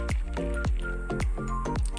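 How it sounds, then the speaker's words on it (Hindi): Green chillies being washed by hand in a bowl of water in a home kitchen, with repeated wet squishes and drips about every half second, close and fairly loud, no talking. "तो अभी हम मिर्चों को धो लेते हैं अच्छी तरह से।"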